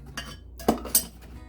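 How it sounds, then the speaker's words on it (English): A knife stirs apple pieces in a bowl, producing a few soft scrapes and two sharper clinks against the side, close and quiet. "I'm just literally going to use my knife to stir."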